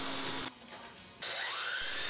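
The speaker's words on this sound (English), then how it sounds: "took the piece to the router" A loud, steady whine of a wood router cutting, briefly dropping away mid-clip before resuming at full roar, close up.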